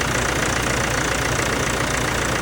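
Tractor engine running steadily with its air conditioning compressor cut in, a loud, constant idling drone with no talk.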